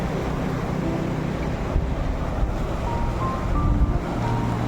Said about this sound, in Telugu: ఆపోజిట్ సైడ్ చూడండి ఎంత బాగా వాటర్ పోతుంది